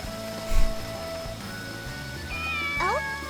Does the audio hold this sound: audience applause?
no